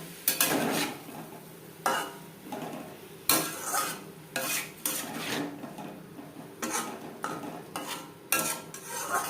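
Potatoes and cauliflower being stirred with spices in a pan for a Bengali vegetarian cauliflower curry, a steady run of close scraping, clinking spoon strokes with a light sizzle beneath, no talking.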